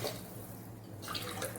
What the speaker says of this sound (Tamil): இப்போ நான் ஒரு 3 டம்ளர் தண்ணி ஊற்றுறேன்